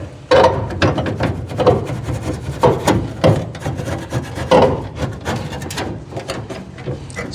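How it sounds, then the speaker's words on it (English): A window is cranked down inside a 1968 Camaro door, giving close, repeated ratcheting and rubbing strokes from the regulator mechanism in an uneven rhythm. "Now we want to roll the window down."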